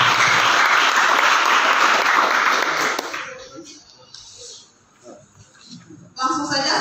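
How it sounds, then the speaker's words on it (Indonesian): An audience at a seminar on logic for activists claps in dense, loud applause that fades after about three seconds, leaving a quiet room before a voice speaks. "Coba untuk aplaus dulu buat kita semua."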